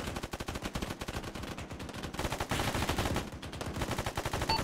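Rapid automatic gunfire from the military video game Arma 3, a dense, continuous stream of close shots rattling throughout with some heavier bursts, no talk over it.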